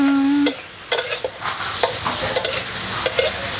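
Vegetarian noodles with tofu and mushrooms being stir-fried, a loud close sizzle under repeated quick scrapes and clatters of the spatula against the pan, after a brief tone at the start.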